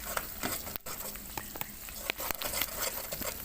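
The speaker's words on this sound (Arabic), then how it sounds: "هنحمرهم مع بعض شويه" Fenugreek, flour and sesame mixture being stirred and toasted in a pan, with a soft steady sizzle and light scraping taps from the spoon, close and quiet.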